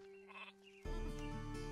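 Sheep bleating in the strategy game Northgard, one loud, close, wavering bleat that starts partway through over a steady game hum, with nobody talking.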